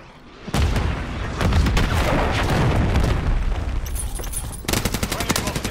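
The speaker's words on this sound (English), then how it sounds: "Friendly cruise missile deployed." A cruise missile strike in Call of Duty: Modern Warfare 3 brings a loud, sustained roar of explosions and rapid gunfire lasting several seconds, then a burst of sharp shots near the end.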